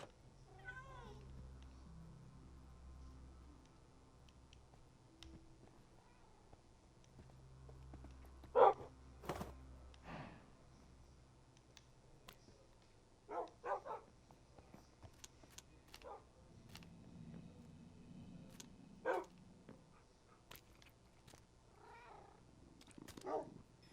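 Cats meowing in a video game, several soft, close mews scattered over a low steady background hum, with a few sharper bursts and no voices.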